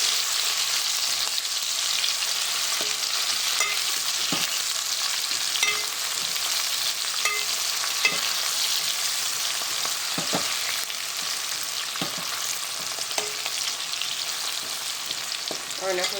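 Onions fry in a pan with ginger and garlic for chicken curry, a steady, moderate sizzle carried over several seconds, broken by occasional knocks and scrapes of a stirring spoon.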